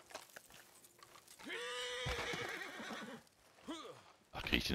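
A horse whinnies loudly in Red Dead Redemption 2 Online, its shrill neigh rising and falling, followed by a shorter second call, with faint hoof clops and rustling around it.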